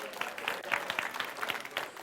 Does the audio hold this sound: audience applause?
yes